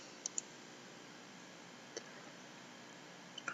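A few faint, sharp computer mouse clicks on a save button, two close together at the start, one alone in the middle and a small cluster at the end, over a quiet steady hiss.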